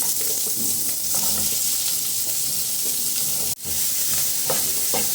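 Onion sautéing in a pan for a capsicum chutney, a continuous close sizzle and hiss with occasional stirring scrapes, a brief dip in the frying noise near the end, no talking.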